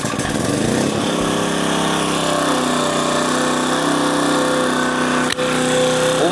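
An Aliente AT1800X four-stroke gasoline generator catches after a single pull-start and settles into a loud, steady, close running hum, with one brief dip in the noise.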